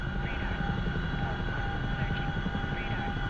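Chinook helicopter flying low in DCS World, a constant loud rotor drone with a steady engine whine throughout, no voices over it.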